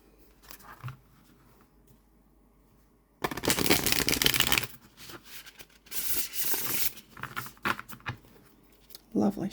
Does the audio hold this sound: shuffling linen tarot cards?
yes